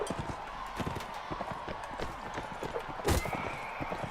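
Horse hooves clip-clopping with whinnies in a Mount & Blade: Warband tournament fight, steady rhythmic hoofbeats at mid distance with a louder burst near the end and faint voices underneath.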